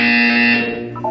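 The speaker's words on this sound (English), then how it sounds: "You will hear a buzzer." A loud, steady electronic buzzer from the Portal 2 video game, a single harsh tone held about a second before fading.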